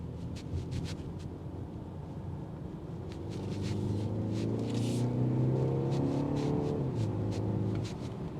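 A 2026 BMW X1 xDrive28i accelerates on a test drive, its engine note rising and climbing in pitch through the gears with a steady rumble and road noise from inside the cabin.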